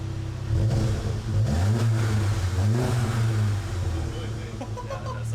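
A VW Golf MK7.5 GTI fitted with an Xforce catback exhaust revs in a few deep, rising blips over a steady idle, loud and close, with people talking over it.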